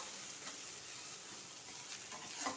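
Grated coconut sautés quietly in a pan for coconut rice. A soft, even sizzle hisses throughout, with a few faint scrapes of a spoon stirring. No voices.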